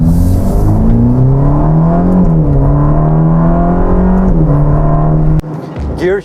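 A Ferrari Roma accelerates hard with a loud, close engine note that climbs and drops sharply through several quick gear shifts before cutting abruptly near the end.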